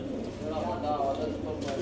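Soft, low Sialkoti pigeon cooing repeats in steady rounds, close by, over a murmuring background of voices and rustle.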